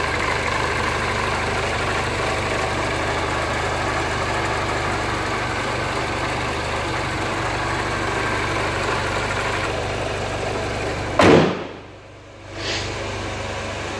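A 2008 Mini Cooper S Clubman engine idles with a steady, even hum close by, broken near the end by a brief loud burst and a short dip before the hum returns.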